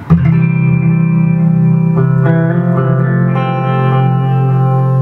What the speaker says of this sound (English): just a clean, very delay and reverb kind of saturated song